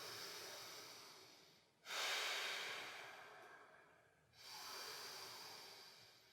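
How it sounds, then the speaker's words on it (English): A big inhale and big exhale during a yoga backbend practice, long loud airy breaths close by, one flowing into the next and then starting again, with no talk. "Take a big inhale. Big exhale."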